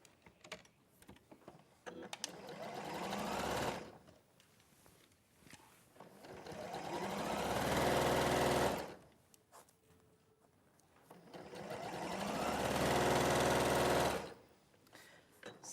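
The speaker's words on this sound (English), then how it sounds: "all you're going to do is sew along that with a 1/4 inch seam" Sewing machine stitching a quarter-inch quilt seam, three long bursts of steady motor hum with rapid needle clatter, separated by short pauses with faint handling noises.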